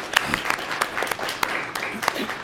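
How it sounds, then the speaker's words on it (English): Audience applause for nationally board certified educators at a certificate presentation, a brief round of scattered claps from a modest crowd, individual hand strikes audible within the patter. "A little round of applause for"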